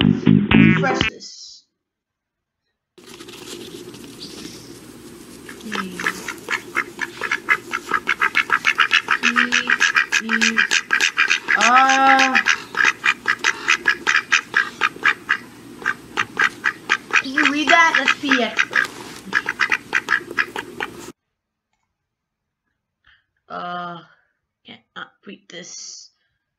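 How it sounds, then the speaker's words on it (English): Cartoonish duck quacking mixed with clicking and other sounds, playing loud and continuous for about eighteen seconds, with speech-like bursts over it, then a short pause and a few faint sounds near the end. "Ducks, quack me up!"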